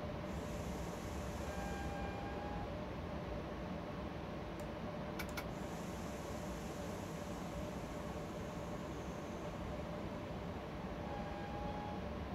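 Class 90 electric locomotive in Train Simulator, a constant broadband rolling roar of the train running, with a few brief high squeals and clicks, loud and unbroken throughout.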